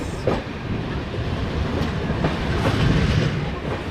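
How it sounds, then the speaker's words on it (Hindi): Vivek Express train hauled by a WAP 7 electric locomotive, a steady loud rumble of rolling stock with faint clickety-clack of wheels over rail joints throughout. "बहुत लंबा डिस्टेंस कवर करती है ये ट्रेन हमारी।"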